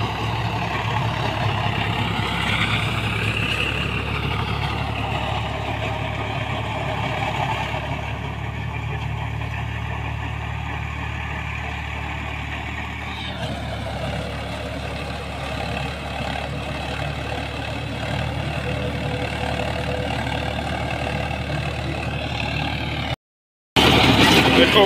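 A tractor engine drones steadily under heavy load while pulling a super seeder through a rice-stubble field. The loud, continuous rumble shifts pitch slightly partway through and cuts out for a moment near the end.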